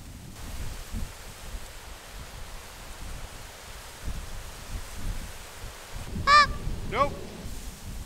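Geese honk twice in quick succession late in the stretch during a waterfowl hunt from the weeds with decoys set out, distant and fairly faint over steady wind and rustling.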